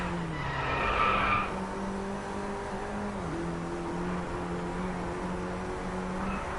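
A Mini John Cooper Works at full throttle in the Driveclub video game, its engine note rising and dropping through gear changes, with a short burst of tire squeal at the start.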